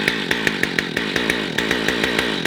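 A small gas chainsaw with a suspected wrong, oily fuel mix runs roughly close up, its engine buzz pulsing in quick, even throbs for a couple of seconds before cutting off abruptly.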